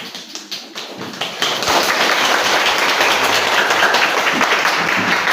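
Students clap to welcome a speaker: a few separate claps open the clip, then they swell into sustained loud applause from a crowd, with no talk.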